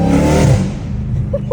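A catless Dodge Hellcat Redeye roars loudly on a downshift at night, the engine note rising then dropping away into a rumbling idle with faint pops.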